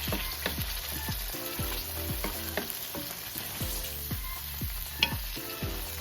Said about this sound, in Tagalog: ipiprito ko muna yung atay para mas maluto siya